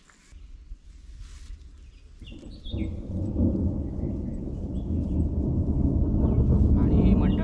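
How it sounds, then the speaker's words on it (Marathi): Low thunder rumbles on through a monsoon-onset evening in the Konkan countryside before the first rain, a deep sustained roll that swells louder over several seconds, with faint birds in the background. "हा बघा आता गाजा गडगडतोय ढग बघा कसे आदळत आहेत"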